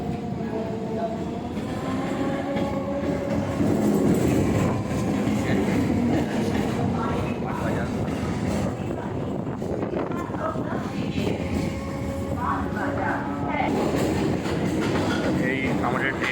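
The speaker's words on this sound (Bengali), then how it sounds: "এই আমাদের ট্রেন বাগবাজার ঢুকছে" A Chakra Rail local train runs beside the Ganga toward Bagbazar on a rainy day, its steady rumble, wheel clatter and wind noise loud and close from inside, with a voice talking at times.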